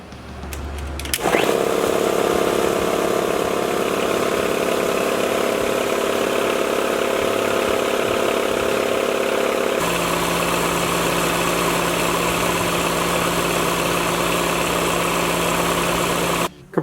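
An air compressor starts up and runs, building pressure with a loud, steady mechanical drone whose tone shifts partway through, then cuts off abruptly at the end.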